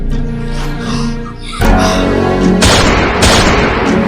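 A loud sound-effect gunshot in a miniature comedy scene about shooting a tortoise: an abrupt blast followed by a second sharp burst, harsh and close, over a steady backing tone.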